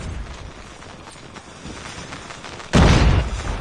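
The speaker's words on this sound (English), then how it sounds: "Oh my god, explosions." A sudden loud burst of explosive booms erupts after a few seconds of steady low rumbling and clatter, the blasts rolling on to the end.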